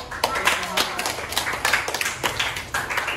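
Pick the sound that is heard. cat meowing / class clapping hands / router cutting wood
class clapping hands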